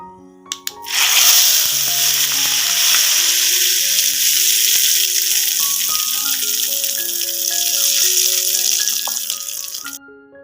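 Hot tempering is poured into coconut chutney, setting off a sudden loud sizzle that swells within a second and keeps hissing steadily for about nine seconds, with faint clinks of a spoon underneath.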